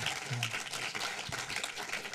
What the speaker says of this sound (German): Großen Applaus, der Produzent Jonas Weidemann, Systemsprenger.